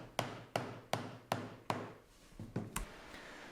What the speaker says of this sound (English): It was really satisfying to tap these into place and see how clean the joinery came out